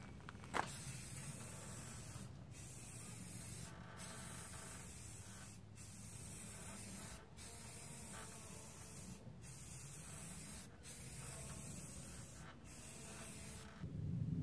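Etching primer from a rattle can hisses onto a car hood in a series of steady bursts, each spray lasting over a second and separated by short regular pauses, close and fairly quiet.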